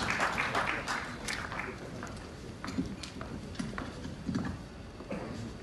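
Scattered clapping from an investment conference audience, uneven and patchy, rising and fading in small bursts over a murmur of background noise.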